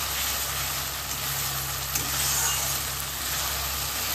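Ginger-garlic paste and ground spices fry in hot oil with a constant, loud, hissing sizzle that runs evenly throughout.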